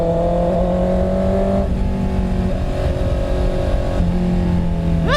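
Heavy road traffic around a motorcycle: a steady engine drone with idling tones and shifts in pitch, close and continuous, with vehicles rumbling nearby.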